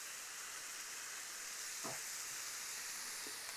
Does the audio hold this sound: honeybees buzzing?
no